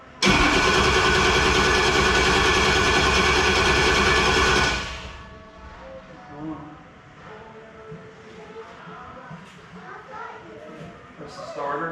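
An engine cranks loudly for several seconds, with a dense whirring starter grind, then cuts away to a faint rumbling idle with scattered clanks.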